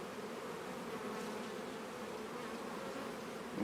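Steady, close swarm hum of honeybees at an open hive during an autumn inspection, continuous and even with no voices.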